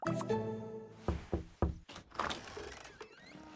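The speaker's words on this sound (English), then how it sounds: "I think I just heard a knock on my door." Several sharp knocks on a house door, a quick cluster of three to four close, solid raps in a quiet room, followed by a faint rustle and a short creak.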